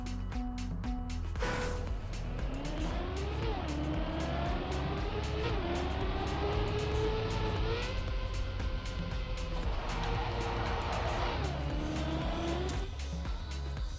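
A car engine in the Trackmania video game revs steadily while driving a track, with a continuous whine rising and falling through gear shifts, close and constant, with no talk.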